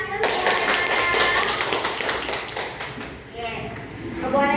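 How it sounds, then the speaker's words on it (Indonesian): A group of people at a positive-culture school outreach session clap their hands together in a dense, steady patter for several seconds that thins out toward the end, with voices mixed in. "kita tepuk tangan kita semua"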